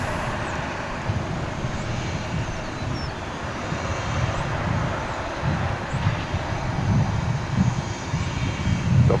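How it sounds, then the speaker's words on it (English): A Martin Air plane at DFW airport, a broad, distant engine roar and rumble that swells gradually toward the end, heard alone outdoors with faint background traffic-like noise. "Another Martin Air flight."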